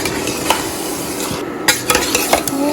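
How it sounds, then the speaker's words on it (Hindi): Beef fried in a pan with red chili powder and crushed pepper for haleem crackles and sizzles, with a spoon scraping and clinking against the pan in short bursts, close up and without talk. "अब आप इसे अच्छी तरह से भूनें"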